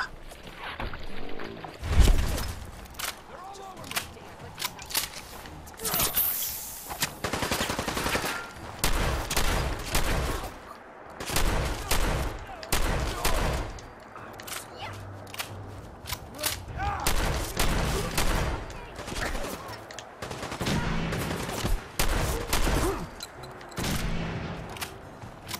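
Repeated combat shotgun blasts in Fallout 4, loud bursts scattered irregularly across a busy game soundscape, with a voice talking intermittently.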